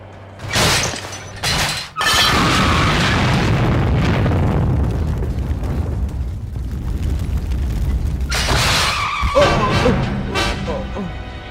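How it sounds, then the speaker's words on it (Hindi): Loud booming blasts and shattering crashes of exploding vehicles, continuous and chaotic, with shouting voices mixed in. "देखो तो पटाखों की तरह गाड़ियों को कैसे उड़ा रही है।"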